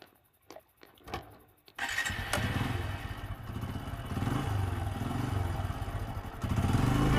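A motorcycle engine starts after a few clattering knocks, then runs with a steady, fairly loud mid-pitched rumble that swells slightly toward the end.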